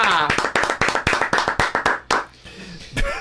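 Podcast hosts clapping their hands in a quick, even run of about a dozen sharp, close claps, fading out near the end, followed by a final single clap.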